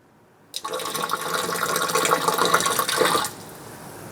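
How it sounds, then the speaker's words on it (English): Bleach is poured from a container down into a water softener's brine well, a steady splashing liquid pour that starts abruptly, runs about three seconds close to the mic, then stops. "we're going to pour the bleach directly down in there"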